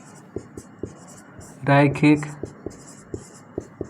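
Chalk or marker tapping and scratching on a classroom board produces short, evenly spaced ticks as a teacher writes, with a brief stretch of speech in the middle.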